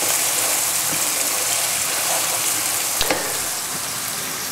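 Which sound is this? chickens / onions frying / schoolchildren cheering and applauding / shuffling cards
onions frying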